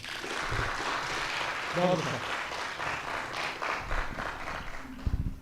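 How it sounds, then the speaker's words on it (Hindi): Loud, dense applause from an audience at a Hindi comedy poetry gathering (kavi sammelan), a steady wash of clapping with some voices mixed in throughout. "एक बार जोरदार तालियां बजाएं।"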